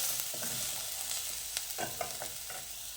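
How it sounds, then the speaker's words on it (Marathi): Finely chopped green chillies sautéing in a pan for ragda patties, a soft steady hiss with a few scattered scrapes and pops from stirring, fairly quiet and close, no voices. "मिरची घालून थोडंसं परतून घ्यायचं आहे."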